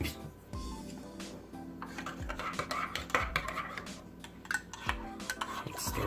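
A spoon stirs a cup of coffee sweetened with maple bourbon pecan syrup, clinking against the cup in repeated light taps and scrapes, close and soft, with some faint background noise.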